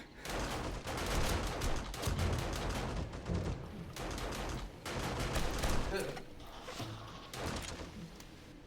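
Base turrets in a video game fire in rapid, repeated bursts at a spawning horde, loud dense volleys with short gaps between them, and the gunfire fills the whole stretch.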